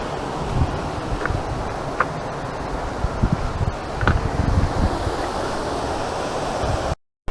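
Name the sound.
waterfall by a village bridge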